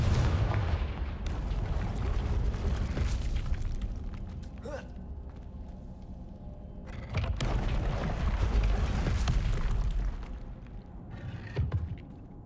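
Fiery blasts from the Confringo spell in Hogwarts Legacy: two loud booming explosions with crackling, rumbling tails, the second starting abruptly after a quieter lull, separated by fading low rumble.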